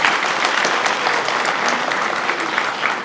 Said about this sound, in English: let's give a round of applause to our donors.